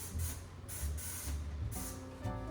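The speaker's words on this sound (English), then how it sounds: "You're gonna do your Dawn spray." Several short hissing bursts of Dawn cleaning spray misted onto the outside of a microwave, each puff close and fairly loud, coming in an uneven rhythm.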